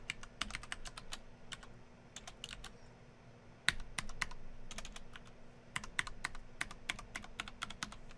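Typing on a computer keyboard, with bursts of quick, close key clicks and short pauses against a low background hum.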